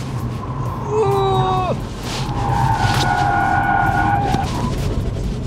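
Tesla Plaid sliding on a race circuit, with sharp tire squeals that bend and fall in pitch, then a longer sustained squeal over steady motor and road noise.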